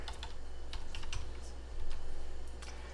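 Keys clatter on a computer keyboard in quick, irregular bursts of light clicks, close but fairly quiet over a steady low hum, with no talking.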